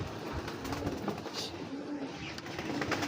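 Young racing pigeons coo softly in a loft, low murmuring calls repeating under a constant background hiss.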